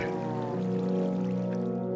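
Water flows steadily in Minecraft, a smooth pouring stream that stays constant throughout under a layer of sustained tonal game sound.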